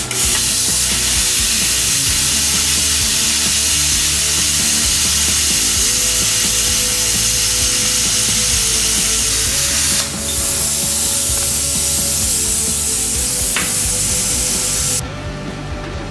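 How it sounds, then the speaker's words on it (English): A cheap plasma cutter cuts sheet metal with a loud, continuous hissing roar, close up and steady throughout, with a brief dip near the middle and a sharp change near the end. "This thing is doing a great job cutting sheet metal like this"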